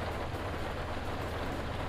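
Rain in Fernbus Simulator on Xbox Series S, a steady, even downpour hissing without a break for the whole stretch.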